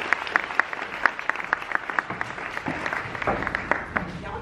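A small audience claps in a brief round of applause, the separate claps sharp and close, then thinning out toward the end.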